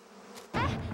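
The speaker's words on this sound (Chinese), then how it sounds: "这里不知道何时有了一个马蜂窝" Hornets from a disturbed nest suddenly burst into a loud, close buzzing halfway through, after a faint hiss.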